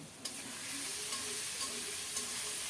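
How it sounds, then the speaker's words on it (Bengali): Spices and tomatoes sizzle steadily in a hot pan for a fish and potato curry, with soft scraping strokes from stirring and a few sharper clinks of the utensil, all close and continuous with no talking. "আবারও নেড়ে ছেড়ে মশলাটাকে খুব সুন্দর মতো টমেটোর সাথে কষিয়ে নিচ্ছি"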